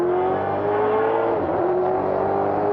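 Race cars, a 1984 Pontiac Firebird and a Chevrolet Camaro, battling on a road course, a loud sustained engine roar with rising and falling pitch as one car accelerates past.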